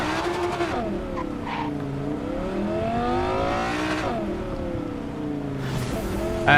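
Car engine from Cyberpunk 2077 running with ray tracing overdrive, revving loudly with pitch sweeping down and back up through gear changes, a continuous close roar.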